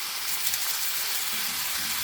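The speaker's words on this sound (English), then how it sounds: "let's fry that butter back onto it" Chicken sizzles and fries in melted butter in a pan for piri piri chicken sandwiches, a steady close hiss of frying with faint crackle and no talk.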